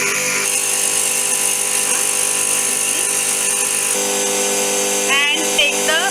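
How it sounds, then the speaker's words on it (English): A synchronous motor runs steadily at 3000 rpm under load, giving a loud, continuous whine with sustained tones that shift partway through and a brief wavering near the end. "Motor is running on synchronous speed, that is 3000 rpm."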